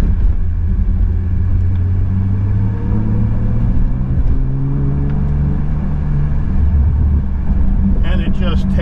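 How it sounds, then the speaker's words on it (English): A 2024 Bentley Continental GT Speed with a twin-turbo W12 pulls away, a deep steady engine rumble heard from inside the cabin, loud and continuous, with a short burst of other noise near the end. "Takes off with this twin turbo W12."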